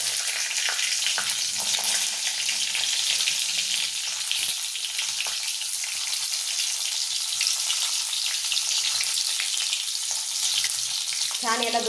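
Ivy gourd hits hot tempered oil with a loud, steady frying sizzle and stirring scrapes, heard close and continuous with no talk, a brief clatter near the end.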